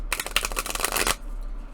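A stiff new tarot deck shuffled by hand, a dense rapid riffle of card flutter for about a second, close and fairly loud, then stopping abruptly into quiet room tone.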